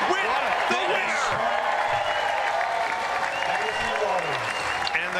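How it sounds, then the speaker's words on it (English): A crowd at the Franklin US Open Pickleball Championships applauds after match point, sustained clapping and some cheering from spectators in an arena, with a commentator talking over the top throughout. "And the crowd applauding the effort"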